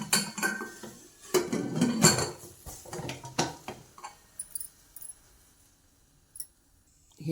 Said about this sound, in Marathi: झाकण लावून घेऊ.